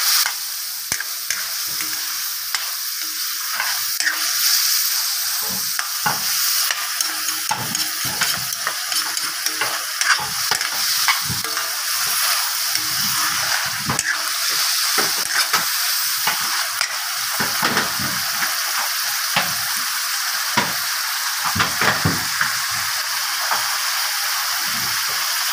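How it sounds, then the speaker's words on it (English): Pork and pre-cooked pork fat sizzle loudly as they are stirred and fried in a pan for chopsuey, with steady high hiss and frequent scraping, clattering stirs throughout, no voices. "now we can mix the pre-cooked pork fat with the meat and mix it thoroughly"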